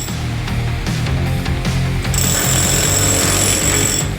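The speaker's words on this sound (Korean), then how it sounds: "다음은 벽을 철거하는 작업인데요." A wall being torn down during remodeling of an old 1980s red-brick house, with loud rapid jackhammer-like pounding in steady bursts and a high whine joining partway through.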